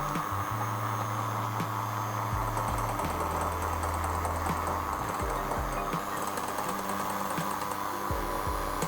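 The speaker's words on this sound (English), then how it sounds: "So keep the whisk on low and add them slowly." An electric mixer whisks cake batter on low speed, a steady moderate motor hum with shifting tonal whine and faint rattling, continuous throughout with no talk.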